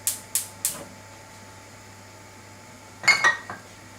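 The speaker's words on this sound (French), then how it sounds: "je vais mettre une petite casserole à chauffer pour cuire les haricots verts" A small saucepan is handled in a home kitchen, giving three quick metallic clanks followed after a pause by a cluster of knocks and clinks, close and fairly loud over a steady low hum.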